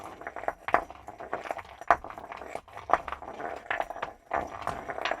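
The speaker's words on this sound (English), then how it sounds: "One is the stone, let's say, just on an insulated rubber mat, and it sounds like that." A stone handled on an insulated rubber mat gives dull, muffled knocks and scrapes for rock-drilling foley, with several sharper hits spaced about a second apart over soft rubbing, close and moderately quiet.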